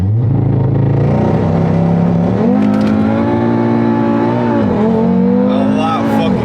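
An RS3-swapped 500hp Golf R and a stock Jeep Trackhawk launch side by side in a drag race, engines roaring loud and close as they climb through gears with brief dips at each shift, rising steadily under faint voices.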